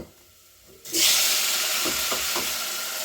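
Tomatoes hit a pan of frying onions, and a loud, bright sizzle erupts and holds steady, with a few soft stirring knocks beneath it.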